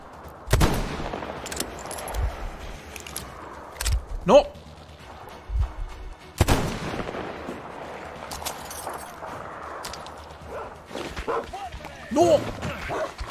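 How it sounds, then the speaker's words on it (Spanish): Mutant dogs snarl and bark in the Metro Exodus video game, scattered yelps mixed with sharp gunshots and thumps. A player talks over the action. "Si son perros mutantes, asquerosos."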